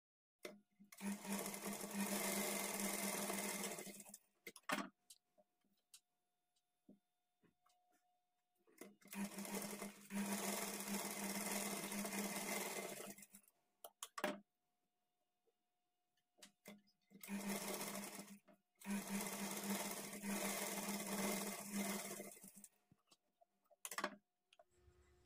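A sewing machine stitching blouse darts runs in three long, steady bursts of rapid mechanical clatter, with quiet pauses and a few clicks between runs.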